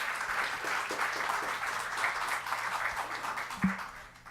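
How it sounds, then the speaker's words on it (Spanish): An audience at a disability rights conference applauds steadily to welcome a lawyer to the stage, a continuous patter of clapping heard from within the room, with one sharper knock near the end. "Recibimos al abogado Rosales con un fuerte aplauso para conocer su presentación."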